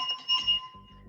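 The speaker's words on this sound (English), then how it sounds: "Excuse the bell." A bell, likely a doorbell, rings with steady high ringing tones over about a second, with low thumps beneath and no talking.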